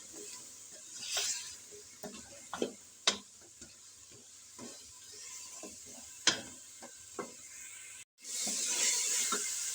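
A spatula scrapes and taps as potatoes and fenugreek leaves are stirred and roasted in a pan, giving irregular close clicks and scrapes over a soft sizzle. The sizzle swells louder near the end, and no one speaks.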